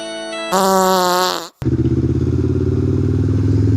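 A motorcycle engine revs hard to a high whine, drops off abruptly, then settles into a loud, steady throbbing idle close by.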